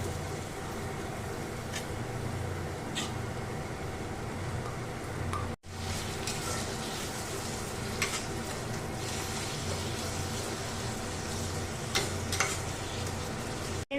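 Chicken mince paste frying with fried onions in a pan: a continuous, fairly faint sizzle with occasional light stirring scrapes, no voices.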